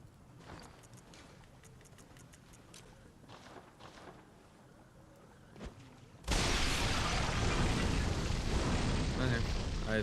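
An explosion in the video game Bloodborne, a sudden loud broadband roar that cuts in after quiet ambience and clicking footsteps and holds steady to the end.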